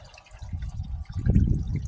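Coolant contaminated with water pours out of a Ford Focus cooling system into a drain tank below, a low, steady splashing gush that swells louder toward the end.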